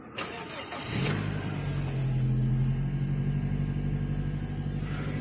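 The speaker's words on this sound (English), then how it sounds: "Car's running." A Mazda 3 that has sat unused for about a month cranks and catches near the one-second mark, then settles into a steady, close, moderately loud idle with a low hum and no talking.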